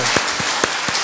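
A church congregation at a worship festival claps in a steady rhythm, with four evenly spaced claps in just over a second.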